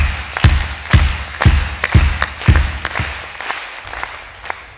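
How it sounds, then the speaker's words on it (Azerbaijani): An audience at a concert claps for the parents in a steady, rhythmic beat of loud claps about once per second, easing off toward the end. "Valideynlərimizə xüsusi bir alqışlar gəlsin."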